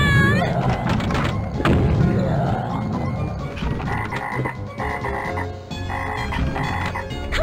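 Frogs croak on a video game pinball table, a string of loud electronic croaks mixed with crashing flipper hits, bumper sounds and game music.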